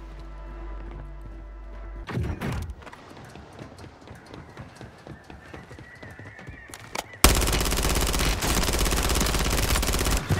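Gunfire in Call of Duty: Warzone, several sharp shots and rapid bursts through the middle, then a loud sustained blast of noise near the end; no talking.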